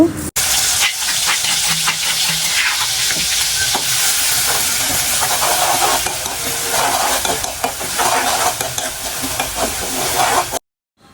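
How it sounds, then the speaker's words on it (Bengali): Chili paste sautéing in hot oil, a loud dense hiss and sizzle with stirring scrapes that runs steadily for about ten seconds and then cuts off abruptly. "তেল গরম হয়ে গেলে এখন আমি মরিচটাকে ভালোভাবে কষিয়ে নেব"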